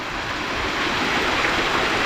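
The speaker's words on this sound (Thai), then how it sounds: "ฝนตกแรงมากเลยนะ เนี่ยตกแป๊บเดียวนะครับ น้ำเนี่ยเห็นไหม น้ำไหลแรงมากเลยนะครับ" Strong, steady rush of water flowing through a mountain forest right after a heavy rainstorm, a continuous broadband roar close by with no voices.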